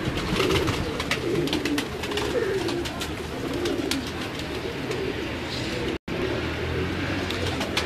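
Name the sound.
pigeons cooing on a rooftop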